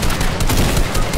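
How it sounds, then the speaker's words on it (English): Loud, rapid gunfire bursts in a shooter video game, a shotgun among the weapons, crackling close and dense for about a second with no clear talking. "He has a shotgun."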